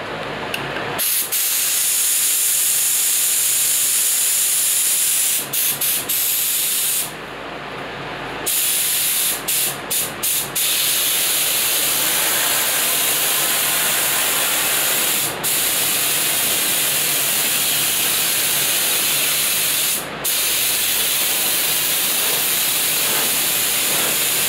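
An air spray gun lays a heavy second coat of epoxy primer in a long, loud, steady hiss, cut by several brief pauses as the trigger is released, with no talking.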